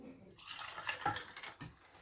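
Ginger ale pours into a homemade cocktail in a short, faint splashing trickle with fizzy bursts and a few drip-like plops, heard close up without speech.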